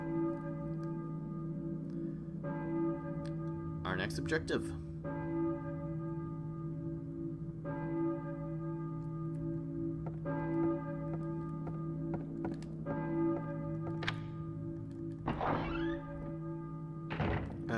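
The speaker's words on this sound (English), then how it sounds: "Hear a church bell, maybe. Who's ringing the bell?" A church bell tolls in the Silent Hill video game, ringing in slow, evenly spaced strikes over a steady low drone, with a few dull thunks between them and a brief spoken line.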